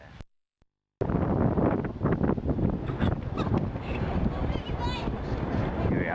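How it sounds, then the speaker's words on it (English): Steady broadband engine and water rush of a jet boat passing close by on Sydney Harbour, with wind buffeting the microphone and voices in the background. "Here's one of those jet boats."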